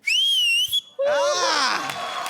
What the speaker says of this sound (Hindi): आपको बड़ी अच्छी तरह से सीटी मारने आती है